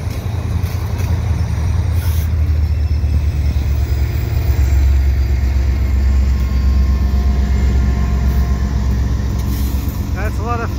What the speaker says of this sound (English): Here are the locomotives.